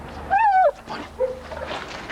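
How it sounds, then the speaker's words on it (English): Police dog on a search with its handler gives a rising, wavering whine followed by a short yelp, close and fairly loud, then faint shuffling and movement. "Police dog and handler."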